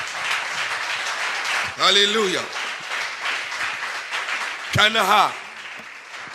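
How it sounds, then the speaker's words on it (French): A church congregation claps and cheers in steady, crowded applause, while a voice rings out in two loud, drawn-out exclamations above the noise. "Est-ce que tu peux faire une acclamation à l'Éternel?"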